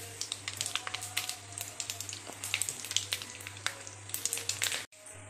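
Cumin and mustard seeds crackling in hot oil with a bay leaf, a rapid, faint scatter of small pops and sizzle that stops abruptly near the end, with no talking.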